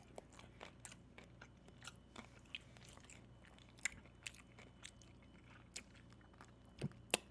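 Close-up crunchy bites and chewing of a Mochinut donut, a quiet run of sharp, irregular crunches and crackles spread across the moment with no talking.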